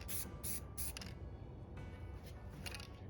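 A spray can of white paint hisses in several short bursts, with pauses between them, close up and steady, while working on a 2013 Silverado's headlight area.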